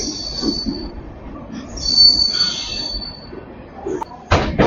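A Danapur–Jogbani Intercity Express LHB train running, its wheels giving high shrill squeals in a few drawn-out bursts over a low rolling rumble, loud and close, ending in a sharp clatter.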